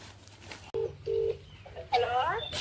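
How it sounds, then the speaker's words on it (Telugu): A mobile phone rings with an incoming call during a coconut harvest, giving two short, clear tone bursts close by, followed by a voice. "చూసారా, ఇంకేమో ఫోన్ వచ్చింది"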